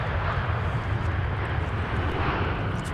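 A Sun Country airliner passes at Minneapolis–Saint Paul airport, a dense continuous jet roar holding steady and fairly close throughout the short stretch, with no voices over it.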